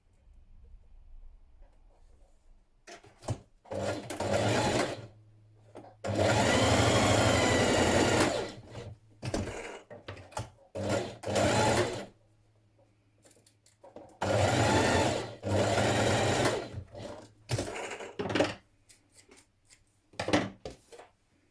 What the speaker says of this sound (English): We're going to stitch this section, and then we're going to just stitch below our notches here on the back section.